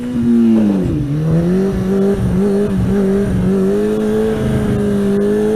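A motorcycle's engine drones loudly and steadily at near-constant revs with slight pitch dips while the rider holds a wheelie and scrapes, close and with no voices over it.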